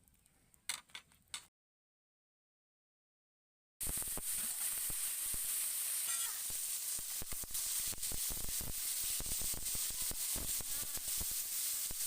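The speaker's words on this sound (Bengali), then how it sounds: "এইবার আমি বেটে নেব" A brief patch of faint clicks, then silence, followed by a loud, continuous stone-on-stone grinding and scraping close by as spices are ground on a grinding stone.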